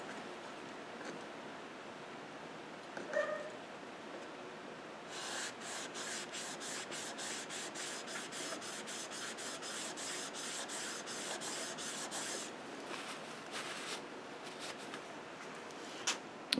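A part of a Stanley No. 5 hand plane rubbed on a 1000-grit sharpening stone: quiet gritty rasping, then a long run of fast, even back-and-forth strokes in the middle before slowing again, close and without talk.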